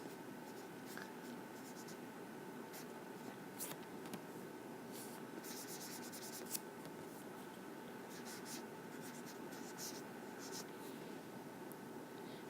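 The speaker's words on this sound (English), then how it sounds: "So I'm going to write that down." Pen or pencil scratching across paper while notes are written for a math lesson on variable expressions, a faint steady scribble with brief strokes over a quiet background hiss.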